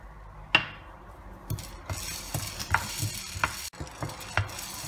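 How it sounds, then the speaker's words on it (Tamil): Black peppercorns dry roast in a pan for Chettinad kulambu podi, a faint, soft rustle broken by several sharp metallic scrapes and clinks as a spoon stirs them, with no talking. "மிளகு வறுத்துடலாம்."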